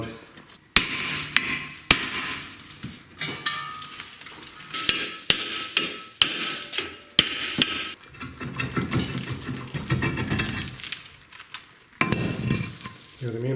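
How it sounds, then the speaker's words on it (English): Loud metal clanks as a hammer pounds a rusted brake rotor off a 2009 Ford Fusion, a dozen irregular sharp blows with scraping and rattling between them, close up in a garage. "Now the rotor has to come off, and I have to pound on that a little bit to get it to come off."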